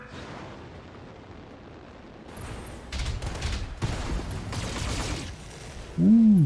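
Mech weapons fire in the Battletech video game, a dense burst of booming, crackling shots and explosions over a few seconds, followed by a sharp rising synth tone, with a brief exclamation from a voice.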